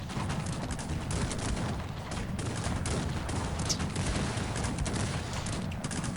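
Scattered musket volleys crackle and pop at a distance in the video game Cossacks 3, overlapping into a continuous rattle of battle gunfire over a low rumble.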